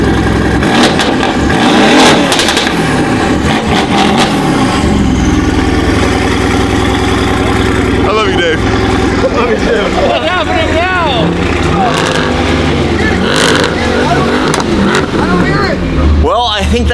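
A twin-turbo Ferrari F12 engine cold-starts with a loud burst, then idles high and revs in repeated rising sweeps, while people talk nearby.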